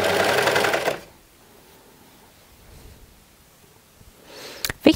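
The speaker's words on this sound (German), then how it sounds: "Und nun nähe ich den Ärmel hier in der Rundung an" A sewing machine stitching a sleeve onto a nightgown runs in a loud, fast, close burst for about a second, then stops into near silence before a couple of brief clicks and a short restart at the end.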